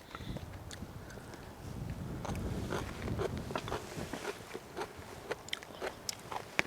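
Close chewing and biting of food at an outdoor cherry-blossom campsite, with irregular crunchy bites and mouth sounds over a steady low outdoor background; no talk.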